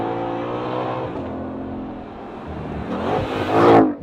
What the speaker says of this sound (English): Let's do a launch control.